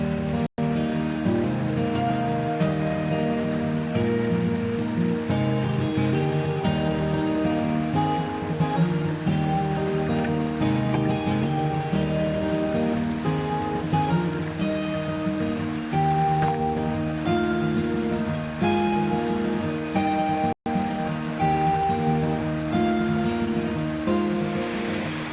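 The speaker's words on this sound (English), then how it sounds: "The waterfall is just beautiful, coming down over a lot of granite, just rolling down it into that brook." A waterfall tumbles over granite into a brook, a steady close rushing roar of water that holds constant throughout with no voices.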